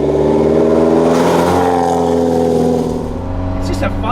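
Small Alfa Romeo car driving on twisty roads, its engine accelerating with a rising, rasping note from inside the cabin, then easing off, with someone talking over it.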